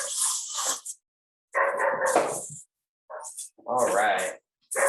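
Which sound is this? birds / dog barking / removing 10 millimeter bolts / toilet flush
dog barking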